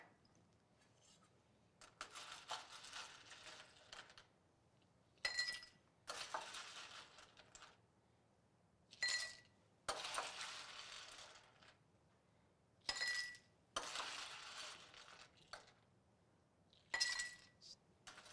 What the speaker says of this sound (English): And now we're gonna add some ice to our glass.